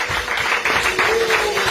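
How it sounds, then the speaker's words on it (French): A church congregation applauding and cheering, a brief burst of many hands clapping in a fairly close, continuous patter with voices mixed in. "De vraies acclamations"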